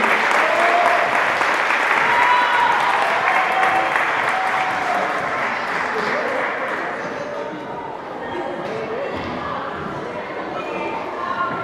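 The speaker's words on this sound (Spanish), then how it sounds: "¿les parece si repetimos el aplauso?" Audience at a Latin dance competition in Valdivia applauding loudly, a dense sustained wash of clapping that eases slightly after several seconds while a voice speaks over it early on.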